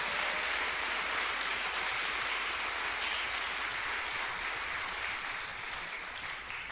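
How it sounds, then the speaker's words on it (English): Audience applause at a Canine Companions assistance-dog graduation ceremony, a continuous dense wash of many hands clapping, fairly distant and even, slowly tapering toward the end. "Can I get a round of applause for these incredible numbers?"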